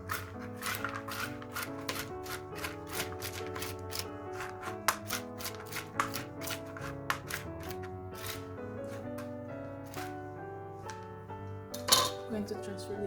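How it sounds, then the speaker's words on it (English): A knife chops pecans and walnuts on a board in a home kitchen, producing a rapid, steady run of sharp tapping strikes that continues throughout, fairly close and moderately loud. "I'm going to chop some pecans and some walnuts"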